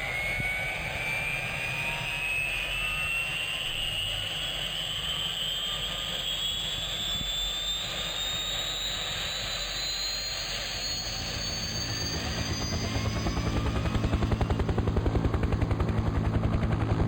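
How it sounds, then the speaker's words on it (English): A helicopter in Farming Simulator 17 whines steadily as its turbine pitch climbs, then deepens into a heavy, loud rotor thump over the last few seconds, close and continuous with no talking. "So let me go grab my helicopter."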